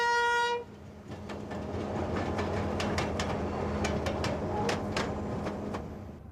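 A train in Ireland rumbles steadily past, with a brief horn blast at the start and rhythmic clickety-clack of wheels over rail joints throughout.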